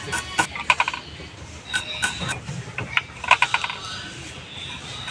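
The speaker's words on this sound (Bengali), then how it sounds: "এখন পেঁয়াজ মরিচ কেটে নেব।" A knife chops onions and chilies on a cutting board in a home kitchen, giving close, crisp taps in short irregular bursts with brief pauses between them.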